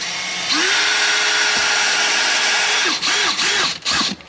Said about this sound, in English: I'm using a step bit just to get a pilot hole started.